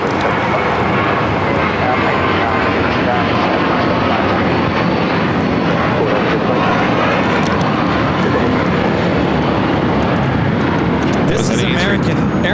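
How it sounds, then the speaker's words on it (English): An American Airlines Airbus A321 jet taking off at LAX gives a continuous heavy engine roar that stays strong for the whole stretch, with people talking over it. "This is American Airlines Flight 4 taking off to JFK on the A321"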